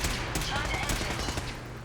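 A dense burst of overlapping gunfire in the Fallout 4 video game, a short rattling fusillade under a continuous rumble of battle.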